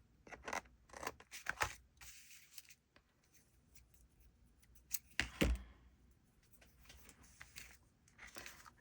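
Scissors snip through paper trimmings for a junk journal, a series of close, crisp cuts in short bursts with pauses between, no talking.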